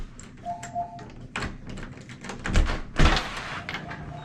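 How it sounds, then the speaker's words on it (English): A side door of a property opening onto a city sidewalk, with scattered clicks and taps of the latch and handle, then two heavier thumps and a rattling swing near the end, close and fairly loud. "Peek out this side door here for you."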